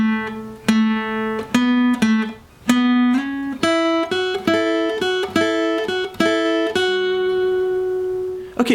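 Lead guitar plays a phrase from a song's intro solo as a sequence of clear, close single notes with slides, some held and ringing, alone without talk.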